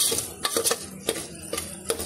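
Spoon stirring potatoes and vegetables in a metal pot for khichadi, giving a run of scraping clinks at an uneven rhythm, close and fairly loud, with no talk.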